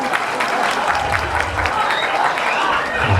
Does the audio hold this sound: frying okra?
no